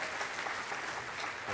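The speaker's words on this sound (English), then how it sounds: "Give him a round of applause." Church congregation applauding at a Sunday morning worship service, a steady, dense clatter of many hands clapping that fills the whole moment without pause, with no talk over it.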